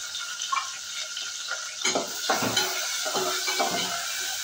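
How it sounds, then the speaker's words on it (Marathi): Onion and tomato sizzle steadily in oil in a hot pan while a utensil scrapes and stirs against the metal in irregular bursts. "त्यात आपण कांदा आणि टोमॅटो भाजून घेऊया"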